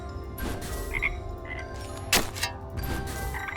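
Frogs croak in the crafting game Wytchwood, a chorus of repeated croaks over a steady background with a sharp knock midway and a few short chirps, with no talk.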